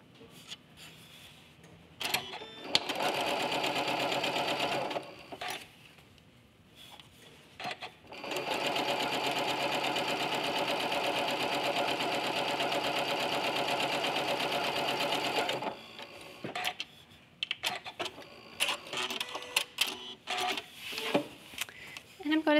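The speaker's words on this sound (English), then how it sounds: "Find a pause in the middle of sewing a seam if you want to reposition to make sure that you're keeping everything lined up well." A sewing machine stitches a quarter-inch quilting seam in two steady buzzing runs, one short and one long, with handling noises of fabric and clicks in the pauses.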